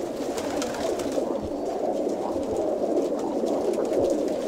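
Racing pigeons coo in a steady, layered chorus of soft, throaty calls from a flock close by, continuing without pause and with no talking.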